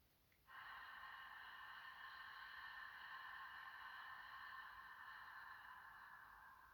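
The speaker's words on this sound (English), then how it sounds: "just make a hissing sound in the back of the throat to make it like a long," Ujjayi breath during a Vinyasa Krama yoga session: one long, smooth hissing exhale in the back of the throat that starts abruptly and holds steady for several seconds, close and quiet with no talking.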